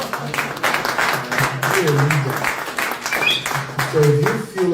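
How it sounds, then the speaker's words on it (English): An audience claps at an investment meet and greet, scattered but steady applause of moderate loudness running beneath voices talking and calling out over it. "you can clap if you want to clap"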